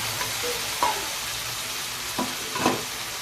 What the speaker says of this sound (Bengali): এরপরে আমি ভেজে রাখা আলু আর ডিমটাকে দিয়ে দিচ্ছি।